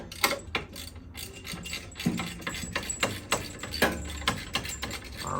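A stubby 1/4-inch drive ratchet works a bolt loose on a 2007 Harley-Davidson Electra Glide during a cam swap, giving a close run of sharp clicking pawl strokes in uneven bursts, with no talking.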